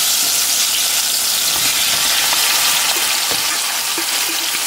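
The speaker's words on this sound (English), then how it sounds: "now you just want to go ahead and slide all of your potatoes in there" Potatoes, onion and peppers fry loudly in hot oil as home fries, a dense continuous sizzle with occasional light scrapes and crackles, close and steady throughout.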